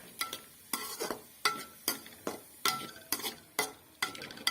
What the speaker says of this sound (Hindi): इसके अंदर मैं बंद गोभी को ऐड करूंगी, गाजर को ऐड करूंगी और शिमला मिर्च को ऐड करूंगी। ये देखें, इन्हें हम अच्छी तरह इसके अंदर भून लेंगे।